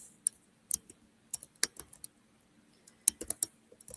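Someone types on a computer keyboard, producing sharp, close key clicks in short irregular bursts separated by brief pauses, with no talking over them.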